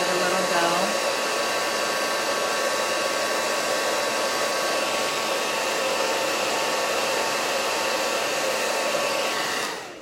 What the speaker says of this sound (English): pull out the blow dryer, give it a little go.